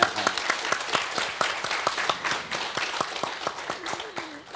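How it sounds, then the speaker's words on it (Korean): An audience at a university talk event claps together indoors, a dense, even patter of many hands sustained for several seconds and thinning slightly toward the end. "박수 한번 부탁드리겠습니다."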